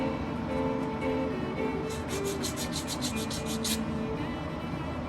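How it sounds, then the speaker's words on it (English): Sandpaper rubbing along the edge of a thin wooden plank for a 1:200 scale HMS Victory model ship kit, a steady close scratchy rasp with a burst of quick strokes midway, no talking. "We're going to sand the edge because of the tree."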